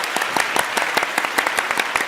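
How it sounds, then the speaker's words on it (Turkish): A studio audience on the Turkish game show Alfapetek claps in a fast, even, rhythmic beat, close and steady throughout with no talking. "Hadi İdil Hanım alkışlayalım"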